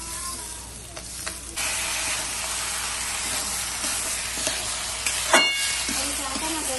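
A simple fasting-day dish frying on a traditional clay stove: a steady, close sizzle and hiss runs throughout, swelling slightly after a couple of seconds, with a few faint knocks and no clear speech.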